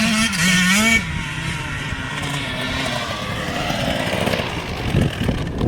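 A motocross motorcycle on a dirt track revs loudly nearby, its engine note rising and falling, then fading as it rides off into steady distant droning.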